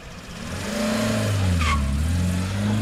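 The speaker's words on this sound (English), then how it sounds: "Hey, someone's pulling up outside." Car engine rumbling and building as a vehicle pulls up outside in a Mario and Luigi video game cutscene, with a brief tire squeal midway; steady and fairly close, no talking.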